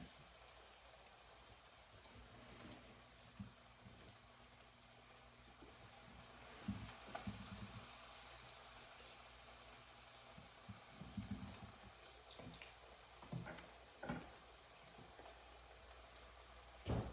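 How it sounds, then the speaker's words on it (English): Jamaican fritters fry in hot oil in a pan, giving a faint, steady crackling sizzle with occasional louder pops over low background hiss. "You hear it sizzling."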